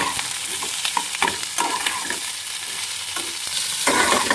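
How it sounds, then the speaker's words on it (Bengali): Chopped onion fries in a pan with a loud continuous sizzle up close, punctuated by repeated scraping and knocking of a spoon as it is stirred, no voices. "এবার আমি একটু পেঁয়াজ কুচি দিয়ে দিচ্ছি, দিয়ে আবার কিছুক্ষণ একটু ফ্রাই করে নেব।"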